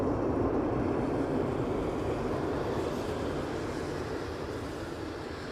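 An Air Canada airliner arriving from LAX at Toronto Pearson Airport on New Year's Eve, a steady broadband jet roar that fades slowly over a few seconds, heard from the ground with no voices.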